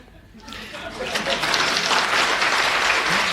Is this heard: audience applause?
yes